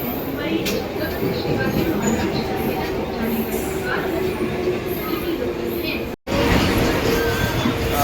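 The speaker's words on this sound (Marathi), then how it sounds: "ही बघा ट्रेन आली आहे" A commuter train pulls into a Mumbai-area platform with a broad, steady rumble and rail noise. The sound cuts out for a moment and then comes back, and people talk over it.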